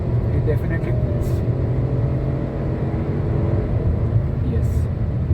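Hyundai Venue N Line 2025 with DCT gearbox accelerating in sports mode, a steady loud engine and road drone inside the cabin, running continuously throughout.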